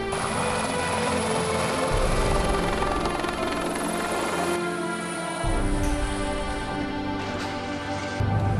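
Military helicopter engines and rotors run up for takeoff at an army aviation base, a loud, steady roar and whine that holds throughout with slight shifts in pitch and no talk.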